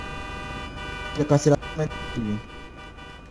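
A car horn honks in the video game GTA 5 roleplay, a few short toots that come through beneath and between someone talking in French, with a steady tonal hum running underneath.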